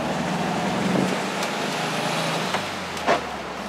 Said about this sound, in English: it seems to be idling perfect every time you come to a stop, and the motor sounds good